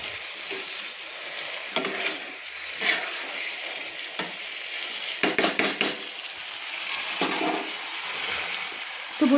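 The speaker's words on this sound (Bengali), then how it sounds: "সব মশলাগুলো কষিয়ে নিচ্ছি, যাতে মশলাগুলো না জ্বলে যায় বা পুড়ে যায়" Spices and vegetables sautéing in a pan with a splash of water for a vegetarian greens dish, continuous sizzle broken by repeated scraping stirs and clatters, close up with no voices.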